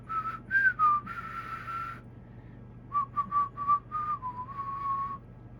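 A person whistles a short tune nearby, a run of clear bright notes in two phrases with a brief pause between, faint room hum beneath and no speech.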